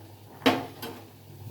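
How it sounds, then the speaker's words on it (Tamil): A lid set onto a pot of mutton dum biryani, one sharp metallic clank followed by a softer second knock a moment later, close and alone over a low background hum. "இப்போ இதை ஒரு மூடி போட்டுட்டு"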